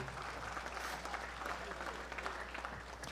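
Audience applause at a dinner event, steady dense clapping throughout, moderately faint, with a low hum underneath and possible faint voices mixed in.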